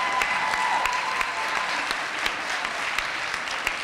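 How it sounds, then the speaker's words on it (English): Sustained applause from an audience at a spelling bee, steady clapping throughout with no talking, fairly close and even in loudness. "Let's have another round of applause for all of the participants"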